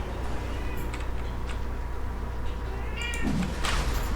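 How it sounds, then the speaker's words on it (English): Cat meows in a Dota 2 match during the TI8 grand finals, a few short mewing calls over steady game sound and background noise. "Come here, kitty."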